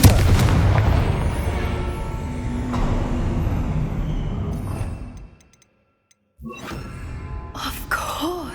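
Confringo spell blast in Hogwarts Legacy, a loud rumbling explosion with a long booming roar that fades into brief silence before scattered crackling debris and magical effects return.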